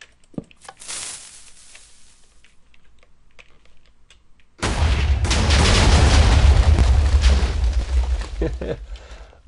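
A TNT explosion in the Minecraft video game erupts partway through as a loud, broadband blast that rumbles on with crackling debris, preceded by quieter clicking and faint game sounds.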